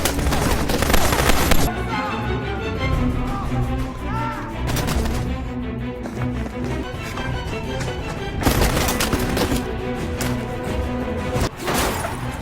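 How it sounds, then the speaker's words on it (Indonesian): Loud bursts of gunfire rattle in rapid volleys, with repeated sharp shots and crashing impacts echoing throughout, no speech. "Tim taktis mengejarnya dan menghujaninya dengan tembakan."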